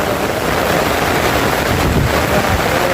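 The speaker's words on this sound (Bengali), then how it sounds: "বৃষ্টি, মানে প্রচুর বৃষ্টি পড়তেছে।" Heavy rain pours down beside the Brahmaputra river on a rainy fishing day, a loud, dense and unbroken hiss of falling water that fills the whole stretch without pause.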